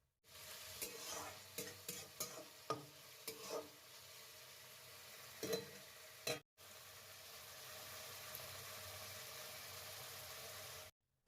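Halved and chopped tomatoes fry in a pan with a steady sizzle, broken early on by a run of sharp spoon-and-pan stirring knocks, then settling into an even, moderately quiet frying hiss with no talking.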